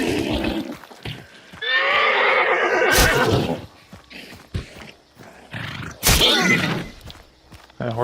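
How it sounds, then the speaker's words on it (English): Horse in the Hunt: Showdown video game whinnying in two loud, drawn-out neighs separated by short clattering effects and quieter game sounds. "That horse doesn't have eyeballs."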